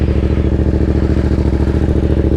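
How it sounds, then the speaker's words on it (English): Engine of a 2019 Yamaha MT-07 motorcycle running in neutral after an oil change, a steady close rumble with even rapid pulsing that holds at a constant level throughout without revving. "you are going to want to start your bike, but start it at neutral"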